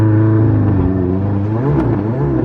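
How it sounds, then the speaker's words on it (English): Tesla Model S Plaid launching under launch control: a strong rising electric whir and drivetrain hum fills the cabin, steady and loud throughout the short burst of acceleration. "we're gonna try a little launch control"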